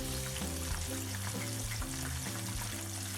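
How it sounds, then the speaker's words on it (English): Chicken pieces fry in hot oil with a steady, dense sizzle, close and continuous, with a faint musical tone underneath. "So I'll show you how this looks as it's frying."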